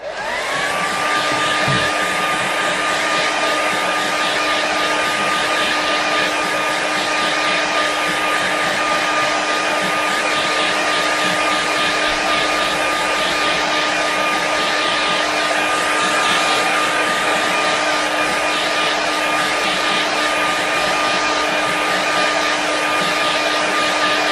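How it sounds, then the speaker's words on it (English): A hair dryer blows steadily over a wet watercolour painting, a loud, continuous close-up whirring roar that holds constant without pauses for over twenty seconds. "I'm just going to give it a quick dry"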